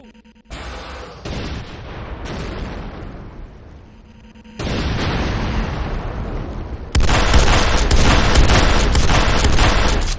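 A Nod Tiberium Refinery in the game Renegade is blown apart by a C4 charge, giving loud booming blasts that swell in stages and end in a sustained, roaring rumble, with no voices.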